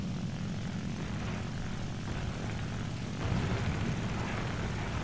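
The steady propeller drone of an MC.200 fighter's engine in War Thunder, a continuous moderately loud hum with a slight rise toward the end, no talking.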